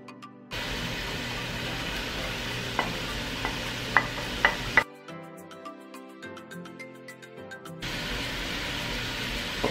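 Carrots stir-frying with beef in a hot pan for Korean jjampong: a steady loud sizzle with spatula scrapes and clinks, broken midway by a short quieter stretch with ringing tones before the frying returns.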